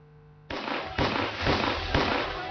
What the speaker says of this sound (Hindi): गोलियों की आवाज से गूंज उठा बाजार